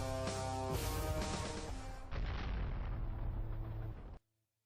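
Ship weapons fire in a rapid run of booming shots during a space dogfight in Naev, loud and continuous for about four seconds before cutting off abruptly into silence.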